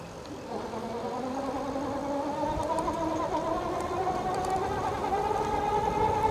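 Sasikeibike Y7 electric dirt bike being ridden, a rising motor whine that climbs steadily in pitch as it accelerates, with rushing wind noise underneath.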